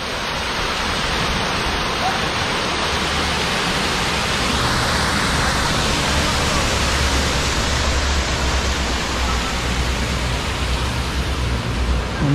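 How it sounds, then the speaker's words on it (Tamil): A waterfall at Glencoe in Scotland roars as steady, dense broadband rushing water, loud and close, with no letup over the whole stretch. "அவ்வளோ சூப்பராக இருக்குது பாருங்கள் ஃபால்ஸ்."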